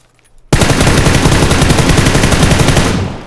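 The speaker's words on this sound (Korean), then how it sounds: "총소리 들리지" A loud, sustained burst of rapid automatic gunfire in a video game kicks in abruptly after a short quiet moment and rattles on for nearly three seconds.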